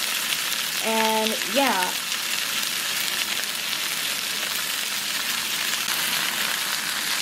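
Onions frying in a pan for Guatemalan pollo con crema give a steady, close sizzle throughout, with a brief spoken remark near the start.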